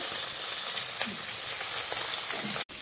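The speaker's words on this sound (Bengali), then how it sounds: "পেঁয়াজির জন্য মাছ হালকা করে ভেজে নিতে হয়।" Steady, close sizzling of fish lightly frying in hot oil, a continuous crackling hiss with a brief dropout near the end.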